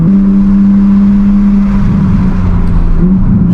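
A Toyota Supra with a titanium exhaust drives through a canyon, its loud deep exhaust drone holding steady, then shifting pitch as the engine note changes partway through.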